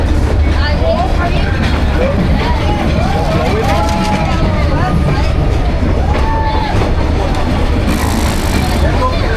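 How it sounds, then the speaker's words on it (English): A train rumbles past at very close range beside a cafe in Vietnam, a heavy low roar with squealing wheel and brake tones over it, while excited voices talk throughout. "The size of the train."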